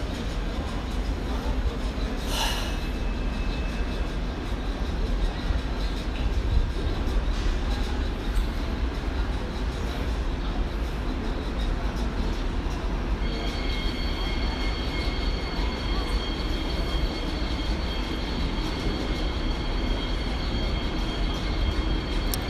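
An RER commuter train of the Réseau type at Paris Gare de l'Est during rush hour, a steady broadband rumble of rolling wagons with a brief squeal early on and a sustained high wheel whine joining partway through.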